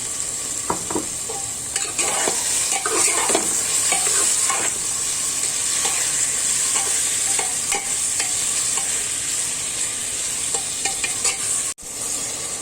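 Chicken liver frying with onions in a pan for kaleji ka salan, a steady loud sizzle with repeated scraping stirs of a spoon throughout and a brief clunk near the end.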